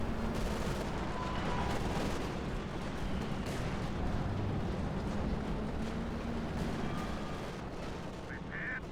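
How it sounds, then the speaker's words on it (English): Light artillery barrage in the video game Company of Heroes 2: a dense, steady wash of distant booms and crackling impacts with no clear separate blasts, fairly faint throughout. "Looks like it's light artillery barrage by the austere player."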